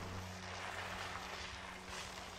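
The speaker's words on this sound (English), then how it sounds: "This old man can't drag a sofa from house to house that quickly." In the game Darkwood, an old man drags a sofa over dirt, a steady, quiet, grainy scraping that holds on for the whole stretch over a low background hum.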